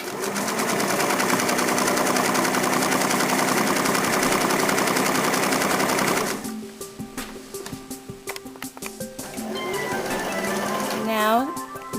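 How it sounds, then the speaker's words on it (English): A Singer sewing machine stitching down a buttonhole runs as a loud, steady, rapid mechanical whir for about six seconds, then stops, and a voice talks over the quieter stretch that follows. "press on your foot pedal to add power and stitch down the length of your marking"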